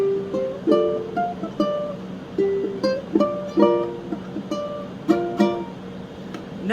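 Fingerstyle ukulele melody of a Tamil song, plucked single notes in a steady, unhurried rhythm with a clear attack on each note, played close up and alone without any talking.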